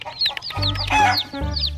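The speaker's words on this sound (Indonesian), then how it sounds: "Ayam rainbow lagi." Rainbow-coloured chickens cluck in a short, lively burst of several overlapping calls close by, with no talk over them.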